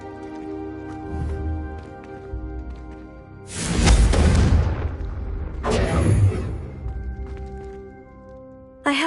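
Confringo fire-spell explosions in Hogwarts Legacy, two loud booming blasts a couple of seconds apart with rumbling tails, amid in-game dialogue.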